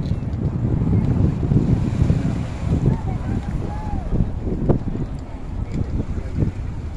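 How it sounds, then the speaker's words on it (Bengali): Cold wind sweeps steadily across the Lisbon seashore with sea waves rolling in underneath, a continuous low, blustery rumble throughout. "সাগর পাড়ে খুব ঠান্ডা বাতাস আসছিল এবং ঢেউগুলো দেখতে খুবই ভালো লাগছিল।"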